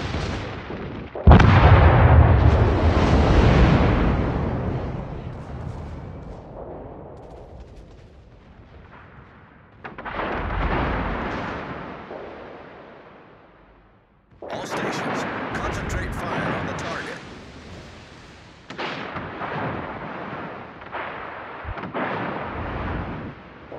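Tirpitz warship secondary guns firing in the naval game World of Warships, several loud booming salvos with long rumbling decays, separated by gaps, with game voice callouts mixed in.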